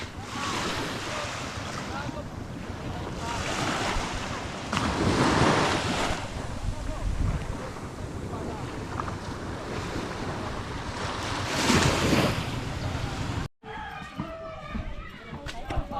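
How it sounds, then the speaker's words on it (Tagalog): Steady wash of sea surf with gentle swells rising and falling, wind buffeting the microphone, ending with a short cut to a different quieter scene. "Ang ganda ng dagat. Kalmado."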